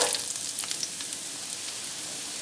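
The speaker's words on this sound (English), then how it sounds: "we're going to sweat the aromatics. So we're going to do some chopped onions" Chopped onions sweat in a pan for chicken and potato curry, a soft, even sizzle with faint crackles, fairly quiet and steady throughout.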